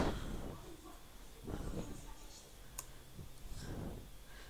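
Computer mouse clicks while working in ArcGIS mapping software, a few sparse, faint clicks heard under ongoing French-language narration.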